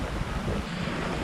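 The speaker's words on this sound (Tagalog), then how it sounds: "Lalong lumakas ang ulan." Heavy rain pounding at a beach campsite at night, a dense, continuous rushing hiss with a gusty, windy texture, loud and steady over a short stretch with no voices.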